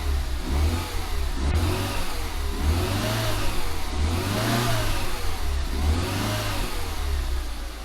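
A restored Austin Metro engine runs steadily nearby, its mid-pitched drone rising and falling in gentle rhythmic surges of revs throughout, with no talking.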